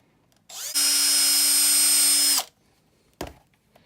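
A power drill bores a hole during a guitar setup, whining steadily for about two seconds, close and loud, followed by a short knock.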